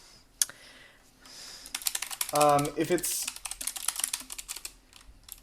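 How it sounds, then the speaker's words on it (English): Rapid clicking of a computer keyboard runs in quick bursts through most of the stretch, fairly close, while a person speaks briefly partway through. "she's typing in the chat there"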